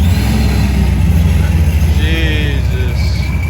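A stock-motor single-turbo BMW G80 M3 at a Miami cars and coffee meet roars loudly up close, its deep engine rumble sustained with voices talking over it.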